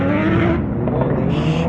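A Porsche 911 at a large outdoor car meet gives a loud, steady engine roar close by, rumbling continuously through the whole short moment with no talking over it.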